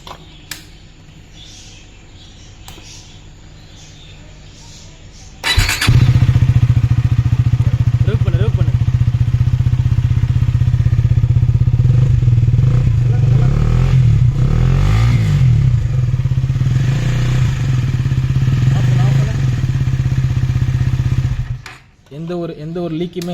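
A KTM Duke motorcycle fitted with an aftermarket Akrapovic exhaust starts after a few quiet seconds, then idles loud and close with a steady, throbbing note and a few small revs before the engine cuts off near the end.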